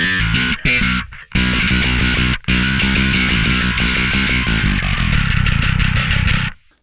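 Electric guitar played through a Vintage Ultra amp setting, heavily distorted with a chainsaw-like crunch, tight low end and pushed mids, chugging chords in a steady loud riff with two brief gaps, no voices.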